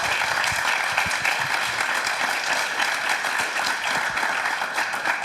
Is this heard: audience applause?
yes